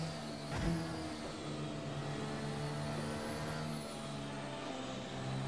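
F1 Hybrid mod race cars, including Williams cars, drone steadily through a race in the video game Assetto Corsa. The engine tone is continuous and buzzing, with a brief louder swell near the start.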